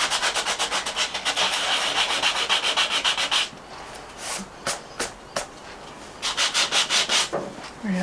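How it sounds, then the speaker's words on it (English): Collage paper being sanded with a Kaisercraft sandpaper block: close, loud rhythmic rasping strokes in a fast back-and-forth run, a pause with a few scattered scrapes, then another quick burst of even strokes, with no talking. "I'm going to have a little bit of a play with my sandpaper block here."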